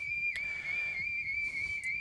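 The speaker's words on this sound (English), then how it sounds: "And a quick flank whistle, trying to get them turned for this post." A shepherd's sharp flank whistle at a sheepdog trial: a steady, piercing high tone with slight wavering pitch, carrying clearly over faint outdoor background for about two seconds, with no talk.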